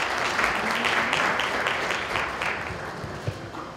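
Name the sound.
audience applause welcoming a speaker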